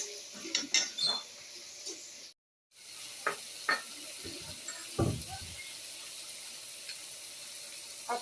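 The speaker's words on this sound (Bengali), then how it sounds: "মশলাটাকে আমি ভালো করে কষে নেব।" Spices with crushed garlic, ginger, chili and chopped tomato sizzle in a pan while being stirred for a dry fish chutney, with scattered utensil scrapes and clinks and a brief dropout midway.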